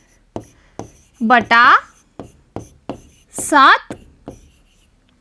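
Writing the fraction 1/7 produces a series of crisp, evenly spaced taps and short strokes, close and clear, interleaved with a person speaking between the marks.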